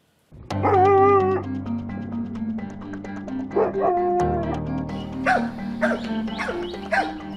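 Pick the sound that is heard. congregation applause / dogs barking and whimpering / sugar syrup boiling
dogs barking and whimpering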